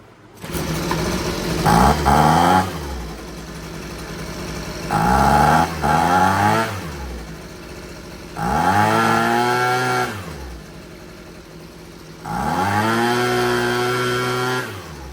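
A Husqvarna 125B leaf blower's small two-stroke engine idles, then revs up in four distinct bursts, each rising and falling in a high, buzzing whine close by.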